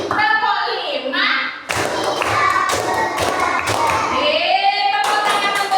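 Five crisp group hand claps follow a teacher's chanted count in a classroom clapping game icebreaker, evenly spaced and loud, with voices singing before and after.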